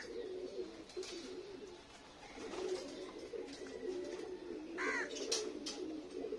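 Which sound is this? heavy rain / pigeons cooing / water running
pigeons cooing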